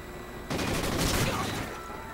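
A short burst of rapid gunfire from a video game firefight, a dense rattle of shots lasting about a second over a constant noisy background.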